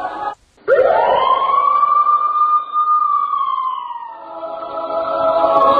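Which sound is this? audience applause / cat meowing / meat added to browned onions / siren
siren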